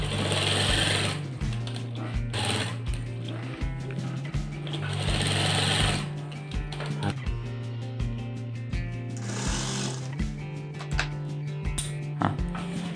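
A sewing machine stitches shirt fabric for an apple-cut shirt, its steady motor whir running in repeated bursts of several seconds with short pauses between, close and fairly loud.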